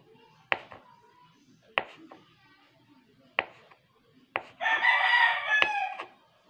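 Sharp knocks or pecks repeat about once a second, then a nearby gamecock lets out a loud, drawn-out crow lasting around two seconds.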